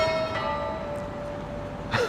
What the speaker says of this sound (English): The bell has tolled.